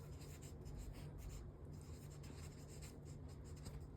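A pen or pencil writes measurements by hand on paper during a tailoring class, a steady soft scratching that runs continuously and faintly up close.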